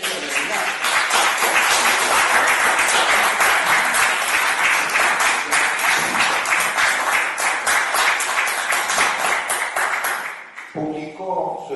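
A live audience claps warmly in sustained, dense applause for about ten seconds, loud and close, before it fades out and a voice begins speaking.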